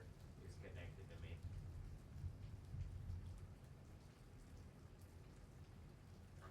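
A storm pours rain in a steady, soft hiss with a low rolling rumble of thunder underneath, heard faintly from a distance, while a voice briefly murmurs in the background early on.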